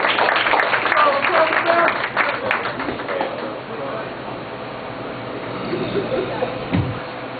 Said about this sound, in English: Let's give my man a round of applause